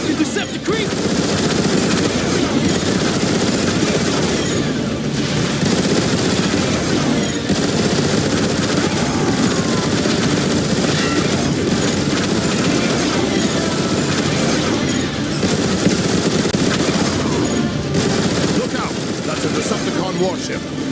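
Continuous heavy turret fire pounds away in Transformers: War for Cybertron, a dense, loud, unbroken barrage of automatic shots with explosions mixed in, over game voices.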